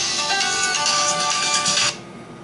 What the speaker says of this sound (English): Sorry, my phone went off.